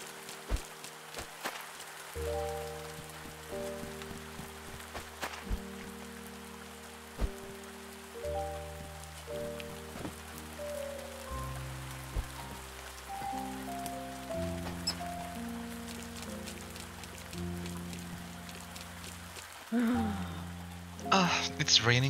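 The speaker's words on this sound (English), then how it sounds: "It's raining again." Steady rain patters on a surface throughout, a soft continuous hiss under a gentle tonal music bed, with a few sharper drips and knocks near the end.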